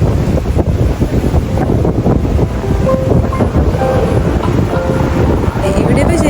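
Strong wind buffets the microphone in a steady roar by the sea, with waves rumbling underneath and a faint voice now and then.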